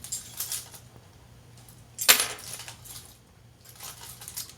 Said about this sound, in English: Those are my keys, rather.